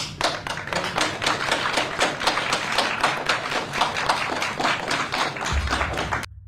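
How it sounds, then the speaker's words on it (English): Fast, steady, hard clapping by people at a New Orleans public meeting, loud and close for several seconds before stopping abruptly. "Clapping hard."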